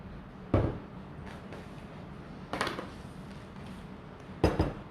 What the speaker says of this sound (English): now I'm going to start to put this into my prepared tins. Let me use the bigger spatula actually.